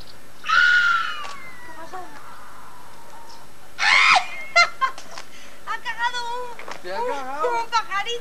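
Seagulls call in loud, harsh squawking cries, two prominent shrieks early on and then a string of shorter wavering calls, heard outdoors against background noise with voices talking among them.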